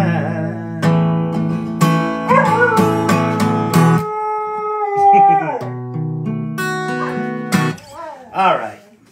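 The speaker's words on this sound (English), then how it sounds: "That's a good singing dog." Champ the singing dog howls in long, wavering tones over steady harmonic music, his voice rising and bending across several sustained notes close by.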